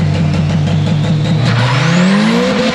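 Turbocharged car doing a burnout, engine revving loud and close with a rising pitch while the tires spin and squeal continuously.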